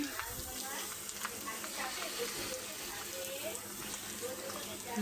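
Grated coconut stir-fried in a pan with bay leaf, cinnamon and cardamom for a coconut pitha gives a steady sizzle and scraping stir, with a voice talking over it.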